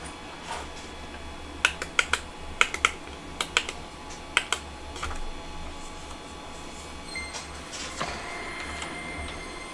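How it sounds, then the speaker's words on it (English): A running 3D printer in a room gives off scattered clicks and short ticking noises over a steady hum, with a few faint beeps and no talking. "3D printer over there beeping away."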